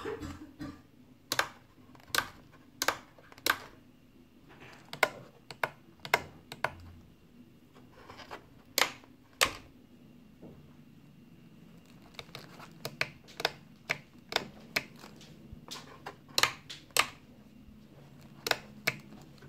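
Toggle switches on a FrSky Taranis Q X7 radio transmitter click sharply, one at a time in irregular bursts of close, crisp snaps over a quiet background, with no talking.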